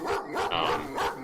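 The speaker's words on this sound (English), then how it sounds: "I love how I can still hear him barking." A dog in the Era of Survival video game barks repeatedly, three or four sharp, close barks in quick succession with brief gaps between them, heard alone without talk.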